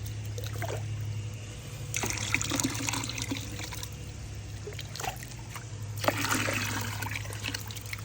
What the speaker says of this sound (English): just take a little bit of water and just kind of splash it